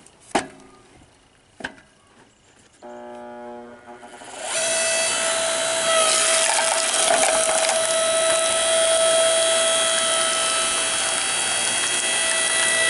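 Woodeze electric log splitter splitting firewood. A few sharp knocks and clunks come first, then the electric motor starts a loud, steady whine that holds to the end, with crackling strain from the wood.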